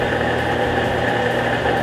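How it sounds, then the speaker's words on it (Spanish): A steady mechanical hum with a constant whirring drone, like a pump running, holds at an even level without pauses, as a Whirlpool 18 kg top-load washing machine drains its tub. "Cuando la lavadora drene el agua de la tina, escucharás este sonido."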